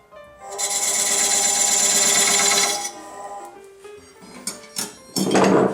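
Wood lathe spinning a maple bowl at 500 RPM while calipers scribe it, a steady motor whine with a rough scraping tone for about two seconds, then spindown and a few knocks and clunks.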